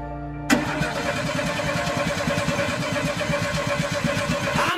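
An old VW Beetle engine, an abandoned car being rebuilt, cranks and catches with a sudden loud start, then settles into a steady, close, rough-running idle with a fast rhythmic chug and no talking.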